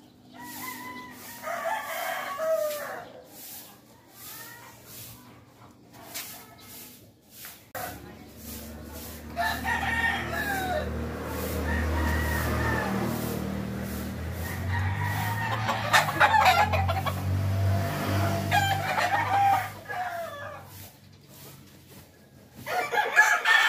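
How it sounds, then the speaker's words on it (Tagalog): Backyard chickens on a provincial farm in Tarlac cluck in scattered bursts while a rooster crows, with people talking nearby over a low rumbling background. "Silipin natin yung mga manok ng tatay ko."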